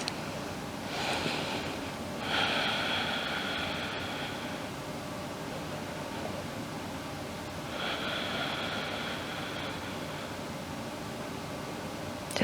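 Slow, deep breaths during a yoga leg stretch, each long airy inhale or exhale lasting a couple of seconds with pauses between, close and fairly soft with no talking.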